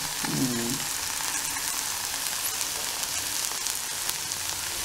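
Spice powder, ordinary and Kashmiri chilli, frying in oil for okra tamarind curry, a steady close hiss of sizzling with a brief scrape of stirring at the start.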